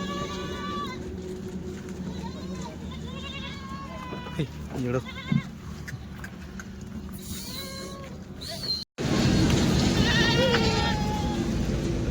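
Goats bleat repeatedly at close range among a pen of billy goats, a rising and falling chorus of overlapping calls over steady background noise, with a brief cut near the end before louder bleating resumes.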